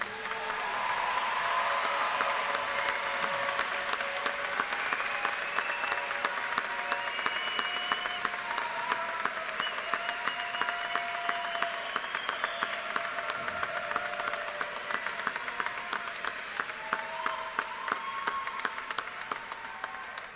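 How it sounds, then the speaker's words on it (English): A large crowd applauds graduating students at a high school graduation ceremony, sustained dense clapping heard from a distance for about twenty seconds, with cheers and whoops rising over it. "Can we get one more round of applause for all of our students?"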